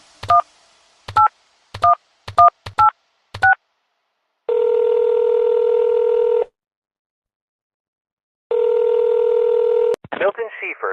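Telephone keypad tones in Nobodies: Silent Blood, six short evenly spaced beeps, then two long steady ringback tones with a pause between, ending in a brief burst of sound.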